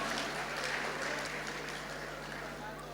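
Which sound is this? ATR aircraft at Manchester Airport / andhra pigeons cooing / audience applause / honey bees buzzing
audience applause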